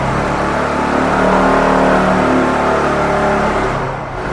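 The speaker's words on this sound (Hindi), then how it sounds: "आपको आइडियल कंडीशन पर इसका इंजन साउंड और एग्जॉस्ट नोट भी सुनवाता हूँ।" A 2024 TVS Zest 110cc scooter engine is revved at the throttle, a loud close continuous drone that rises and holds with its exhaust note, then eases off slightly at the end.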